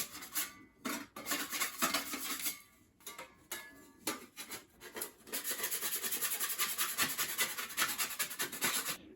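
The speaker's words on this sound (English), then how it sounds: "Since I'm mixing up small batches, I'll clean off all the tools. Just scrape them against each other like that." Drywall knives are scraped against each other to clean off joint compound, making close, quiet, rasping strokes that repeat in an uneven rhythm and then settle into a faster, steadier scraping.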